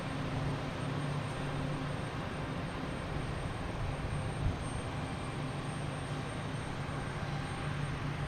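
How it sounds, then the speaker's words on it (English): A JetBlue Airbus A220 arriving at Boston Logan Airport from Chicago makes a steady, far-off jet drone at low level, unbroken and without voices. "next to arrive is JetBlue, an A220 coming in from Chicago"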